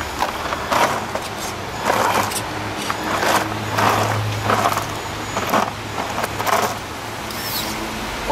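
RC Land Rover Defender crawling along a backyard dirt trail, its small motor whining in a steady low drone while tires scrape and crunch over wood and dirt in repeated bursts, close by.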